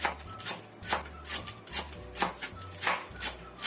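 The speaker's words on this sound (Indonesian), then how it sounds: "Ini udah kita cuci bersih, kita iris halus" Knife finely slicing about five washed green onion stalks on a board, a steady run of crisp, close chops in a quick even rhythm with no talking.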